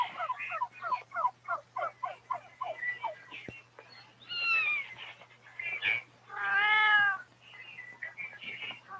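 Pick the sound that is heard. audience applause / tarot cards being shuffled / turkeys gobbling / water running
turkeys gobbling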